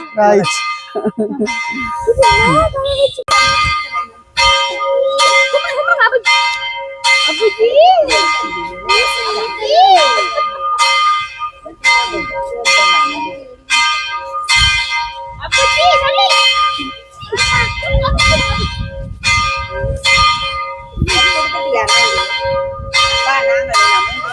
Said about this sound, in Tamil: கோயில் மணி அடிக்குது